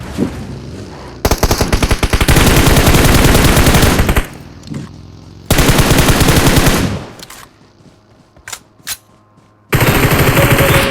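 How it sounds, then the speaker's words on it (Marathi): Loud, close machine-gun fire in a shooting video game, long rapid bursts broken by short pauses, with a few isolated single shots in between. "पुढं फायरिंग आली."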